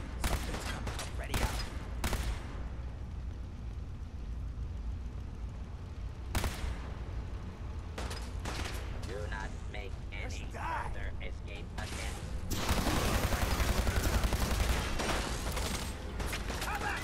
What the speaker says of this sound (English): Stop shooting me, I don't appreciate it at all.